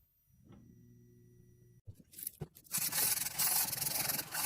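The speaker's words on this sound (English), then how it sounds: "With the temper complete, I hand sand the entire blade." Hand sanding a forged steel knife blade, after a short humming tone and a couple of knocks, becomes a steady, close, rough rubbing and scraping that continues to the end.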